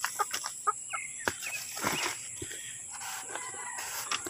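Rhode Island chickens being fed, clucking and squawking in a close, busy flurry of short calls with pecking and rustling, no talking.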